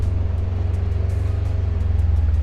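A Polaris General UTV engine idles along at light throttle in 4x4 mode on an off-road quad test track, a steady low pulsing drone with a regular rhythmic throb, close and continuous, nobody speaking.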